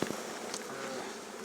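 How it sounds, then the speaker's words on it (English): Honeybees buzz in an open hive, a close, continuous hum of many wings with a few brief louder passes, alone and without talk. "There's enough bees coming along to keep the hive continuing successfully"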